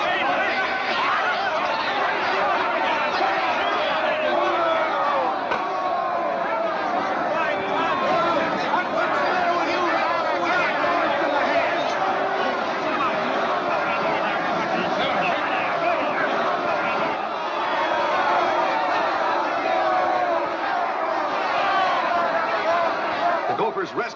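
A crowd at a baseball ballpark keeps up continuous chatter, shouting and scattered laughter, a dense, steady murmur of many voices throughout with no clear pauses.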